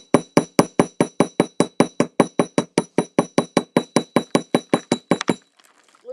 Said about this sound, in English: So you're going to hammer the whole piece.